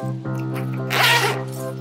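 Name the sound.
zipper on a bag being opened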